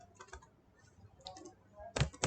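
Keys clatter on a computer keyboard while code is entered: a few scattered, light taps, then a louder, denser burst of keystrokes near the end, close and otherwise quiet.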